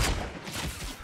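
Gunfire in the video game Fortnite, a dense, loud burst of overlapping shots spread across about a second with no speech over it.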